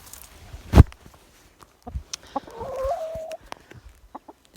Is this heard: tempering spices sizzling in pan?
no